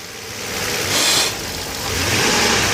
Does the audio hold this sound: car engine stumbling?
yes